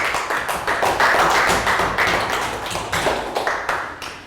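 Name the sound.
round of applause for a student in class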